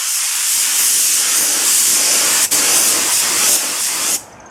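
Spray paint hisses onto PVC fence poles in one long, loud, close burst with a short break partway through, then cuts off abruptly near the end.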